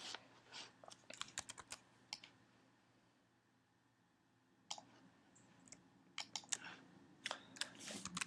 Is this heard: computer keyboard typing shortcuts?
yes